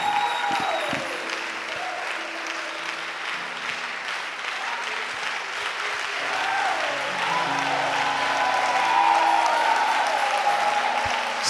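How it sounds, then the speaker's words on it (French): Church seminar congregation applauding continuously at a steady, fairly loud level throughout, a dense crowd clapping that swells slightly toward the end. "Applaudis très fort le Seigneur Jésus."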